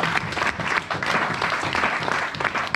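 A church congregation applauding the Lord, a dense steady burst of many hands clapping together that fills the room for a few seconds.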